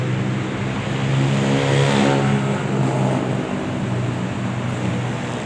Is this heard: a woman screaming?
no